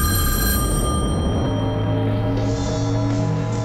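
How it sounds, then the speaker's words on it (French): A telephone rings loudly and continuously, its bright electronic tone sustained across the whole stretch over a low background hum, with no voices present. "Puis, le téléphone se mit à sonner."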